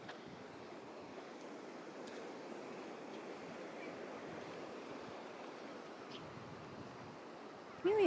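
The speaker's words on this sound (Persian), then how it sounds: "آب دریا رو باید نشون بدم، ببین چه موجی داره" Sea waves surge and break steadily on a windy Italian beach, a continuous broad wash of surf with gusty wind noise buffeting the microphone throughout and a brief bump at the very end.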